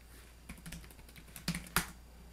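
Quiet keystrokes on a computer keyboard, a handful of scattered taps with a few sharper clicks near the end, close and alone without talk.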